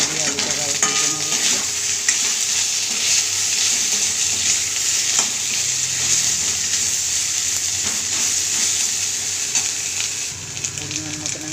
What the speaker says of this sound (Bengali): দিয়ে আলুটাকে আবার ভেজে নেবো।